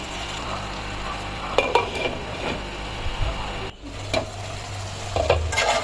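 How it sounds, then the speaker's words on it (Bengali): Marinated beef for biryani cooks in a pot, with steady sizzling under repeated clanks and scrapes of a metal spoon against the pot as it is stirred, close and moderately loud. "মাংস মাখানোটা দিয়ে দিলাম।"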